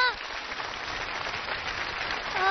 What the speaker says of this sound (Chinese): 接下来就让我们用热烈的掌声把这些亲子家庭再一次请上场